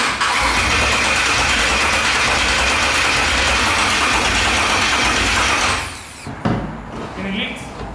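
A 669hp V8 that has sat unused cranks over to build oil pressure before firing, a loud, close, continuous whirring churn for several seconds that cuts off, followed by quieter noises.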